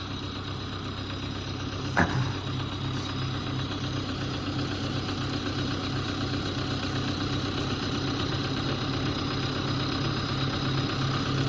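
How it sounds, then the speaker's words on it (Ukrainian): A tractor engine idles steadily on a cold morning at minus 5 degrees, with an even mid-pitched rumble and slight knocking that continues without pause, broken only by one brief click near the start. "Давненько трактор не заводився, ну завівся легко, раз і все."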